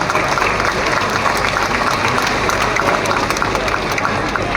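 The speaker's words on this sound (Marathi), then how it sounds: "चला जरा टाळ्या वाजूया आपण त्यांना." A crowd at a dahi handi festival claps and cheers steadily for a human pyramid team, dense continuous applause filling the space at close range.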